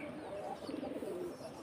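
A stray young pigeon that has landed at a house in Bangladesh gives soft, low cooing, faint and somewhat distant against a quiet indoor background.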